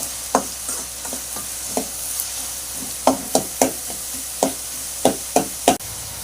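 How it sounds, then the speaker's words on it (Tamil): Two large chopped onions sauté in a hot pan, a soft sizzle punctuated by about a dozen sharp spoon knocks and scrapes against the metal as they are stirred, with no talk. "வெங்காயம் வதக்கிட்டு இருக்கும்போதே ஒரு 1/2 ஸ்பூன் மஞ்சள்தூள்,"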